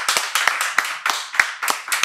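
A short burst of applause, with scattered sharp hand claps rising and falling and no voices.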